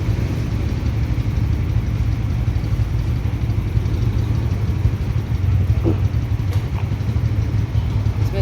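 A motorcycle engine idles steadily just after being started on a cold day, with a loud, close, continuous low rumble and faint voices now and then.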